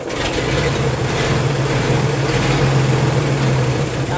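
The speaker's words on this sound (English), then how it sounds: "it's idling and we haven't even adjusted the carburetors" Old barn-find fire truck engine idling on untuned carburetors after sitting for years, a steady low rumble with a sustained droning hum, close and constant with no voices.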